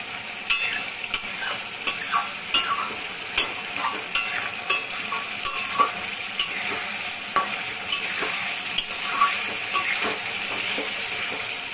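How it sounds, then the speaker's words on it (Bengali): Spice paste with turmeric and chili fries in a pan for a katla fish curry with potatoes. A spoon stirs it gently, giving soft irregular scraping knocks over a continuous close sizzle, with no talking. "ঢাকনাটা তুলে সুন্দর আলতো হাতে মশলাটাকে কষাচ্ছি"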